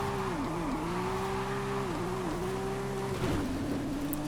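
Race car engine in Forza Horizon, GT1-class, held at a steady high rev with repeated brief dips as the e-brake yanks it into drifts, with tire noise and a louder surge near the end.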